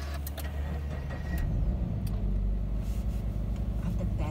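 A Subaru BRZ 200 bhp engine starts from a keyless button: a short cranking catch gives way to a steady, low idle rumble heard close up from inside the car.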